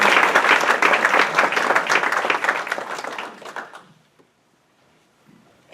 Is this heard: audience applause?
yes